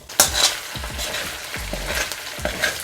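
Beef for Mongolian beef searing in a hot pan, giving a loud close sizzle with scraping and stirring as pieces are turned over.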